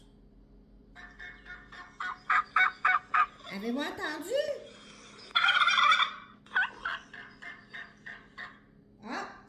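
A turkey gobbles in a loud, rapid burst of rattling calls, followed by further gobbling bouts and a quick series of clucks, close and clear, with a voice briefly speaking at the start.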